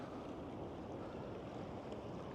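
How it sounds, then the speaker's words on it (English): Broadband roar of large surf waves breaking on the Oregon coast near where a fast-flowing creek current pours into the ocean, steady and continuous with wind buffeting, no voices. "just the waves over there are massive"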